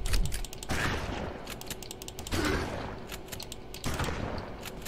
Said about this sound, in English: Can never go wrong with the shotgun.